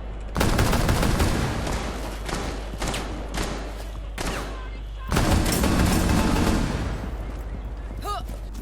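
Dense gunfire in the tactical shooter Rainbow Six Siege, loud sustained automatic bursts and thuds over a low rumbling background, pausing briefly before another heavy volley, with talking in between.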